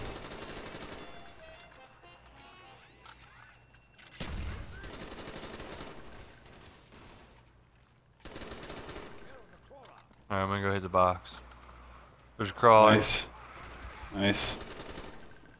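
Gunfire in Black Ops Zombies on the Kino der Toten map: bursts of rapid automatic shots come and go over game sounds and music, with players talking over it.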